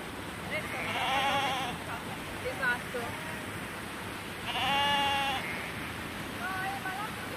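A sheep in an isolated countryside spot bleats several times, a few moderately distant wavering cries spread over a steady outdoor background, while a person talks.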